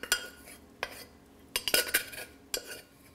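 Utensil scraping and clinking against a pan while soy sauce, sage and cooked barley are stirred together for a mushroom barley pot pie, a few sharp scrapes and taps in quick bursts, close by with no talking.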